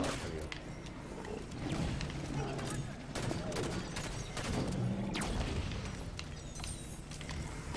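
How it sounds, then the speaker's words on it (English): Enemy gunfire in the Halo 5 campaign, a dense, continuous barrage of shots and booms that keeps a steady level through the whole stretch. "got a friend over here shooting at me"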